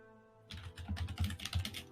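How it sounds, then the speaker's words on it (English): Fast, forceful typing on a computer keyboard comes in a quick burst of close, heavy keystrokes after a quiet start, with uneven rhythm and no speech. "Aggressive typing."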